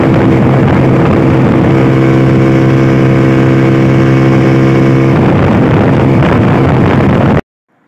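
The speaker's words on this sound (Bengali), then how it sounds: "চলেন আমার বাইকের টানটা দেখে আসা যাক।" A motorcycle engine drones loudly and steadily while riding, with a sustained tone that holds for several seconds before shifting, then cuts off abruptly into silence.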